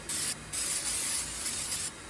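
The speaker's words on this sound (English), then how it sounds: "I'm gonna give it a little spurts of the John Deere green spray paint." Short bursts of John Deere green spray paint hissing from an aerosol can onto a lawn mower, three close, loud spurts separated by brief pauses.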